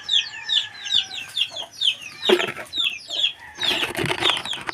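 A flock of chickens clucks nonstop close by, with overlapping short calls and a few sharp squawks and fluttering bursts.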